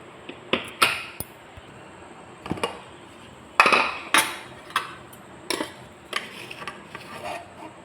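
A pressure cooker holding rice upma is opened after its steam is released, giving a series of sharp metallic clinks and knocks spaced irregularly over several seconds, close and fairly loud.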